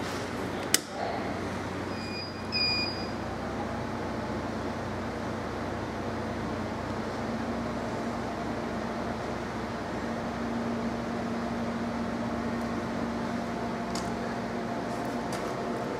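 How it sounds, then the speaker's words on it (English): A Stel Max 403s aluminum welding machine on a 240-volt, 60-amp outlet switches on with a sharp click, then its cooling fan settles into a steady, close whirring hum that runs on unchanged. "Let's turn the machine on."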